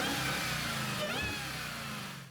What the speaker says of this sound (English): the supercharger whine sound is cool